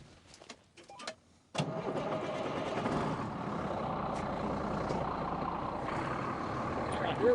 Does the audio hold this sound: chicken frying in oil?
no